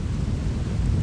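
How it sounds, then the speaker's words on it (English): Strong wind buffets the microphone outdoors on a blazing sunny day, a dense low rumbling roar with uneven gusts, close and loud, with no voices. "the sun is blazing hot now, but thank God it's windy"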